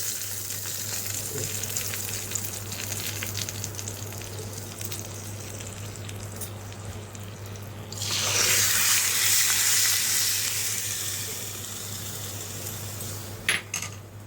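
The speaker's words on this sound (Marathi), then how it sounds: "इथे मी रायताला तडका देना आहे" Cumin, mustard seeds and chili flakes sizzling in hot oil for a tadka over carrot raita, a low steady fry that rises into a loud, bright hiss when the tempering goes in, then settles, with a brief clink of utensils.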